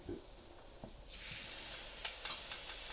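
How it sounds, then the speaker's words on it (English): Breakfast batter meets a hot cooking surface and bursts into a steady, hissing sizzle that begins partway through after a few quiet clinks and continues evenly with small crackles. "put some of the batter on and start cooking it"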